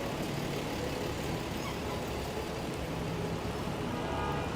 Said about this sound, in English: Even though it's quite rainy